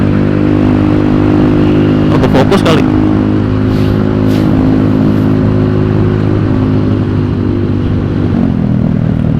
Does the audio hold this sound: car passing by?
yes